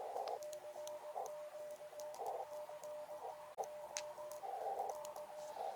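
Morse code CW tones from a ham radio operated outdoors on an Oklahoma ranch, faint repeating beeps in short dits and longer dahs with soft ticks and background hiss.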